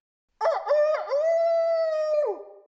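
A human voice imitates a rooster's crow with one loud, close, drawn-out call that opens in a few choppy rising notes and then holds a long steady tone before trailing off.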